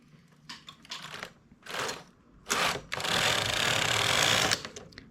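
A knitting machine carriage runs across one row on a bed set up for a V-neck finishing edge, giving short mechanical clatters and then a long, steady, loud rasping sweep close by, with no talking.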